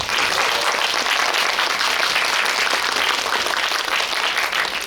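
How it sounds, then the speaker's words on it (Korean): A cinema audience at a film guest visit applauds the three guests, dense, steady clapping that fills the hall from start to finish with no voices standing out. "세 분에게 다시 한번 뜨거운 박수 부탁드립니다."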